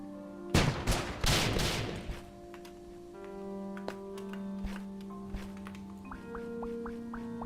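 Video game explosions in a cleanup game, a burst of loud booming blasts early on followed by scattered sharp pops and ticking effects, with lighter chiming tones continuing near the end.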